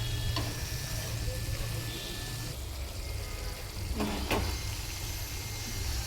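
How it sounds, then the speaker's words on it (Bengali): Whole Bombay duck (lote) fish cooks in a watery pan with a continuous low bubbling sizzle, a few light scrapes and taps of a spatula near the end, close and moderately loud. "একটু নাড়িয়ে দিচ্ছি, কেন জলটাকে তো টানাতে হবে"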